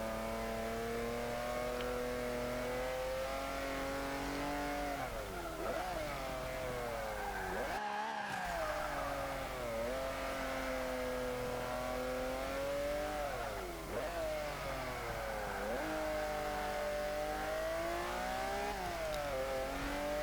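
A 1940 Ford De Luxe Coupe with very thin tyres in the Forza 5 racing game, its engine droning and revving steadily, pitch climbing and dropping through gear changes and corners, loud and continuous for about twenty seconds.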